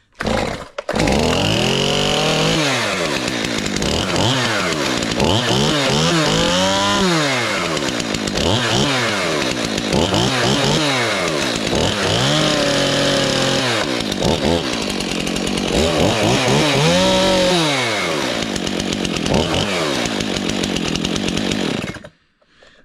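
A Stihl MS291 chainsaw, started cold on half choke, fires up and runs loud and close for about twenty seconds, revving up and down repeatedly before cutting off at the end.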